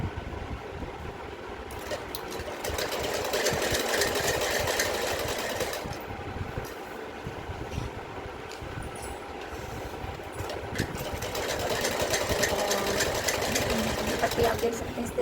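A sewing machine runs in long steady bursts, stitching a seam on a Rajputi poshak. The close mechanical whirring rises and falls in speed, and someone talks over it throughout.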